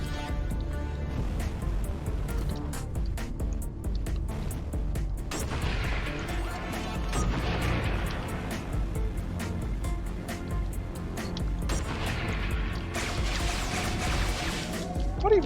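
A capital ship firing a ghost cannon in the space shooter Everspace 2, producing repeated heavy blasts and crashing impacts over a constant low rumble, with sharp percussive hits recurring throughout.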